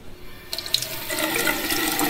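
Water runs steadily from taps, a continuous rushing splash that starts abruptly and holds close and fairly loud throughout, with no voices.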